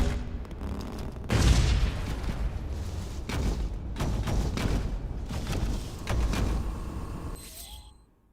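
A grenade going off in a video game, a loud booming blast followed by rumbling, crackling debris and scattered gunfire-like bursts that fade out near the end.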